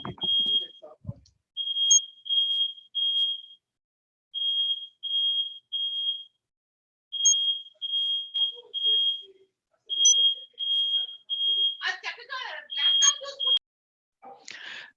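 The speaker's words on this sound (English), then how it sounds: "I have some alarm at home." A home alarm, much like a smoke detector, beeps shrilly in rapid bursts of several beeps with short pauses between them, loud and close. A person's voice is briefly heard near the start and the end.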